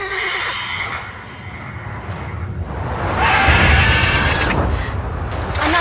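A horse neighs and whinnies loudly in The Witcher 3 over the game's ambient background, with a second louder whinny building midway through.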